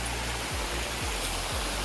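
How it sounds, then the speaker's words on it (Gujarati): A forest stream near the Khodiyar temple outside Palitana rushes steadily as a broad, even wash of flowing water, with a few low thumps underneath. "તમે જોઈ શકો છો પાછળ ઝરણું છે"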